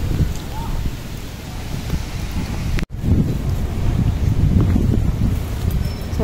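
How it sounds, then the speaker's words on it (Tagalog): Wind blowing across an open outdoor picnic spot, buffeting the microphone as a steady low roar that drops out for a split second midway before resuming just as strongly. "Sarap ng hangin."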